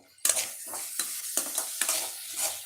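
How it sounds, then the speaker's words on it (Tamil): Onion and tomato sautéing in a pan for a horse gram chutney, with bursts of stirring and scraping against the pan over a soft sizzle, several strokes in a loose rhythm, close and fairly clear. "இப்போ வந்து வெங்காயம் தக்காளி வதங்கிச்சு"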